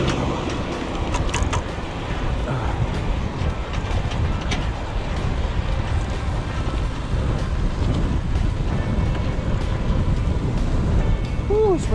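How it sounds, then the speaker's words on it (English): Strong wind buffets the microphone while riding a Lapierre Ecrosshill gravel bike near Llanwonno in South Wales, a constant loud rushing roar mixed with tyre and road rumble throughout. "the wind has really picked up"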